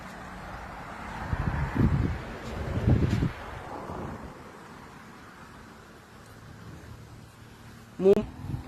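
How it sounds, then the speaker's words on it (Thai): Strong wind sweeps across an open spot at sunset under a cloudy sky, buffeting the microphone with low rumbling gusts early on, then easing to a steady faint rush before one short, sharp gust near the end. "สายลมแรงค่ะเพื่อนๆ สายลมแรง"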